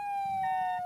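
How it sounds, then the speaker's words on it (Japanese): An emergency vehicle siren in Flashing Lights wails as a steady, loud, piercing tone, holding pitch with a slight dip and a few brief background noises beneath. "サイレン鳴らせ。"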